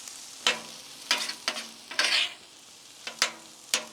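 Pork fried rice with vegetables is stirred on a Blackstone griddle: a light sizzle under repeated sharp metal spatula scrapes and taps, about seven strokes in an irregular rhythm, close and without speech.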